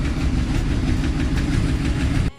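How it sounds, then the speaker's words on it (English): A 2006 Yamaha Royal Star Tour Deluxe motorcycle engine idles just after an oil change, a loud, steady, low rumble heard close by that cuts off abruptly near the end. "just start her up real quick, and then just let it run for a minute or two"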